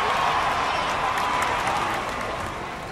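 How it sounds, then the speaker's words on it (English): A crowd at Candlestick in the Action PC Baseball video game cheers and applauds in a steady, dense roar that slowly fades toward the end. "Fans at Candlestick cheer that effort."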